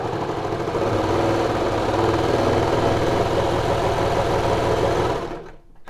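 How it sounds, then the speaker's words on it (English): Baby Lock Victory serger stitching a 4-thread overlock seam, a steady, fast mechanical whirring with a rapid rhythmic clatter running unbroken for about five seconds before stopping abruptly. "I'll lower my presser foot and I will start to sew."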